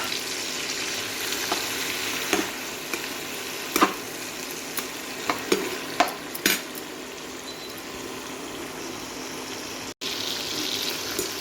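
Chopped onion and capsicum fry with tomato in a pan for chicken pulao, giving a steady close hiss broken by a few sharp stirring knocks.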